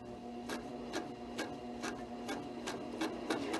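Needle embellishing machine with barbed needles, no thread or bobbin, punching texture into silk dupioni; a soft, steady mechanical ticking at a regular slow pace, about two strokes per second, faint and close with no talk.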